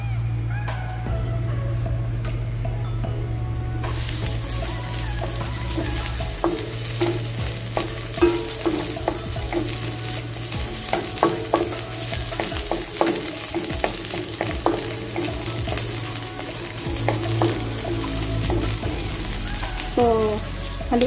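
Onions sauté in a pan for a tuna and cabbage guisado, giving a continuous crackling sizzle with frequent stirring scrapes and clinks, heard close and steady for a long stretch.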